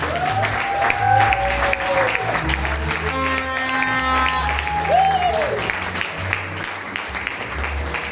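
Congregation at a French-language Christian church service applauding steadily for several seconds, with a singing voice carrying over the clapping and crowd noise.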